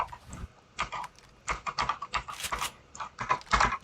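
Computer keyboard typing during a South London 2 game session: irregular clusters of close, crisp keystrokes with short pauses between bursts.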